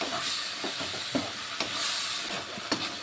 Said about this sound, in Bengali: এখন মশলাটিকে সুন্দর করে কষিয়ে কিছুক্ষণ রান্না করে নেব